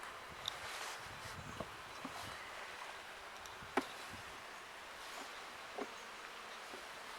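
Bees buzz faintly around hive nests, a soft, steady hum with occasional light taps and rustles close by.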